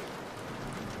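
Steady rain falls close by as a dense, even hiss that fills the whole second without pauses or voices.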